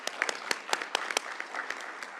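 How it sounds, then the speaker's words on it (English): Scattered clapping from a small audience at a diversity networking event, a brief burst of uneven claps that thins out quickly, with no one talking over it. "I just feel like clapping on that"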